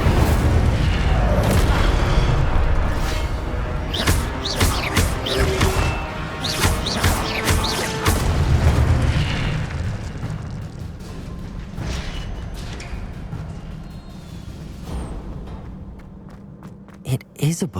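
The Incendio fire spell being cast in Hogwarts Legacy: loud, busy bursts of fiery booming and crashing with sharp impacts and rumbling layered over game effects, fading toward the end before a few final hits.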